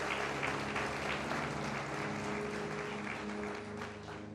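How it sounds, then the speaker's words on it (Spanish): Church congregation clapping together at a Lord's Supper service, a fairly faint, dense burst of applause heard from within the room that tapers off toward the end. "Alguien que le dé un aplauso al Señor, por favor."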